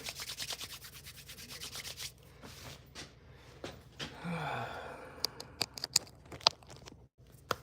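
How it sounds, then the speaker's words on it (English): Close, rhythmic scratchy rubbing of sandpaper worked by hand over a surface, with a few brief pauses and light knocks toward the end. "So I'm done hand sanding now."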